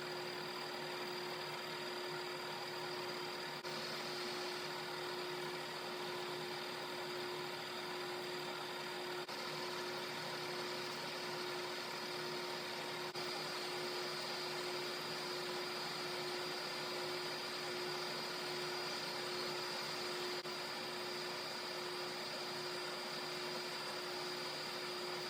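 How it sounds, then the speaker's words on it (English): A lathe turns a pulley in a steady, even machining run, a faint continuous motor hum with no talking. "We'll keep machining away here and see what happens."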